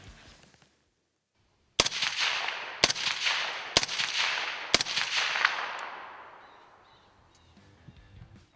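Four suppressed rifle shots fired through an AAC Ranger series silencer, each a sharp loud crack at roughly one-second intervals with a long decaying echo trailing off after the last, following a brief quiet lead-in.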